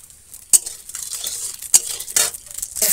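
Cumin seeds dropped into hot oil and stirred, with sharp scraping and clinking strokes of a utensil against the pan, a few distinct hits over a light sizzle, close by.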